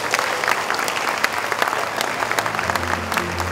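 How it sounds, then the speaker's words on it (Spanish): A crowd at an agricultural show's official opening applauds a minister's speech with dense, steady clapping, fairly loud and continuous throughout, with a low murmur underneath. "Fuerte el aplauso, más fuerte el aplauso para el ministro de Industria y Comercio, Luis Alberto Castiglioni"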